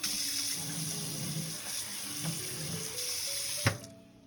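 A kitchen faucet runs continuously as a paprika is rinsed under it, with a sharp knock near the end before the flow shuts off.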